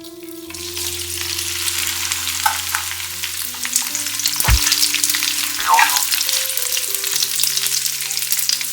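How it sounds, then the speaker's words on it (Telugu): Large pieces of okra frying in hot oil in a pan, a loud steady sizzle throughout with a brief low thump partway through, close and without speech. "ఈ నూనె వేడైన తర్వాత దీనిలో మనం బెండకాయ ముక్కలను ఈ విధంగా పెద్ద పెద్దగా కట్ చేసి పెట్టుకొని వీటిని వేసుకోవాలి"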